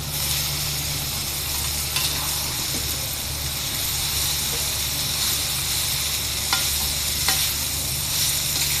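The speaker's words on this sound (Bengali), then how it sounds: "নুডলসগুলো এখন মশলার সাথে আমি মিক্স করে নিব।" Chow mein noodles get tossed in a hot pan with spices and vegetables: a loud, continuous sizzle with scraping stirs and a few sharp clicks, close by, with no voices.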